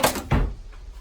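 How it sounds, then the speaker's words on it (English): A door in a video game thumps twice in quick succession, short wooden knocks of it opening and closing at close range. "That door keeps opening and closing."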